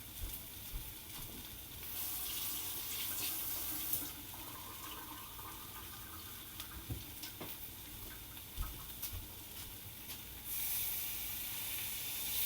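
Water runs steadily from a kitchen tap into a pot while a jambalaya-inspired dish is being cooked, a continuous hissing rush with faint sizzling and small clinks, no talking.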